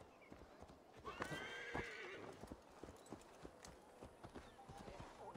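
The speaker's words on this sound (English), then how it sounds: "Let's summon up my horsey." A summoned horse in the video game Assassin's Creed Valhalla gallops up with steady hoof clip-clops and a clear whinny partway through, under quiet game ambience.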